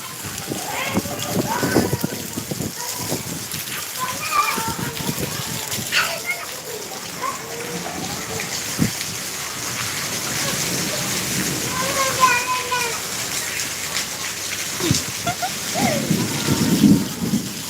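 Heavy downpour with thunder during a hailstorm: a steady, dense hiss of rain with low rumbles beneath, and someone talking over it throughout.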